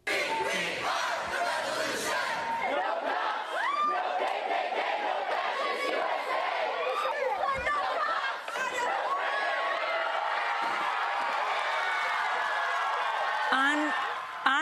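A crowd outside the old Durham County Courthouse erupts in sustained cheering and yelling as a Confederate statue is pulled to the ground, a dense wall of voices that stays loud throughout.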